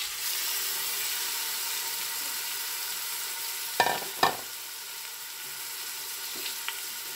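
Chicken breast with the skin on, seasoned with black pepper, seasoning salt and Creole seasoning, browning in a pan. A steady hiss of frying runs throughout, with two sharp clatters partway through and a couple of faint ticks near the end.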